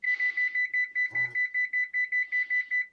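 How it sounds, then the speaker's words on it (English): A kitchen timer beeps in a fast, even series of about fifteen sharp, bright beeps, close and clear, with a brief low sound in the middle. "I was setting the timer."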